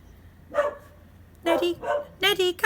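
A pet dog named Neddy gives several short yips and barks indoors, close and loud, in uneven bursts separated by brief pauses.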